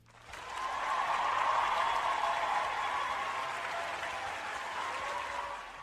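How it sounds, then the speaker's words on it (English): A studio audience claps for accomplished, successful women, a dense round of applause that rises quickly, peaks early and then eases slightly while sustaining to the end. "round of applause for them"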